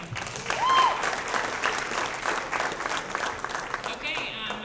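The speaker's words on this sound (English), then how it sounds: "Let's give those guys a round of applause" An audience at a school jazz band brunch applauds the rhythm section, a full, steady round of clapping with a few whistles and a faint voice over it.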